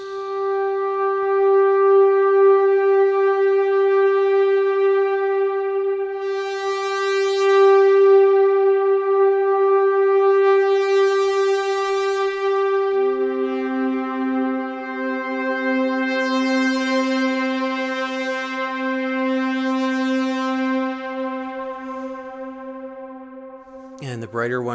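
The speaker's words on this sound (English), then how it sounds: "So if I just hit the key and hold the sustain pedal, it sounds like this." A single synthesizer note in the style of Blade Runner is struck and held with the sustain pedal. The rich, steady tone rings for over twenty seconds, shifts to a lower layered pitch partway through, and ends in a brief thump.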